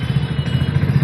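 A Splendor motorcycle engine with BS6 emissions thrums close by on a road, a steady pulsing low chug for about a second.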